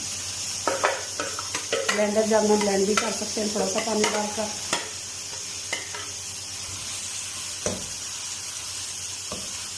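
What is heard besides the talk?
chopped onions sizzling in hot oil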